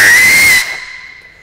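A loud, piercing whistle of air forced through a narrow gap cuts off abruptly after half a second, leaving a faint fading hiss.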